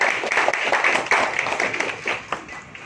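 Clapping from the audience at a community policing meeting held at a police commissionerate, a brisk, fairly close burst of applause lasting a few seconds with some talk underneath.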